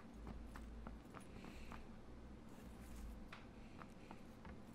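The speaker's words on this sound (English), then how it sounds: "Those moments when your footsteps sound like 16 people's footsteps." Player footsteps in PUBG at Mylta Power: quiet, quick rhythmic thuds of steps on a hard surface, clustered so closely they sound like several people walking at once.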